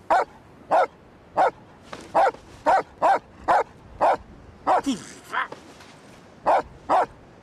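Dogs at a dog beach barking in sharp, evenly spaced single woofs, loud and close, with a brief whimper and a cluster of quicker yips midway before the steady barking resumes.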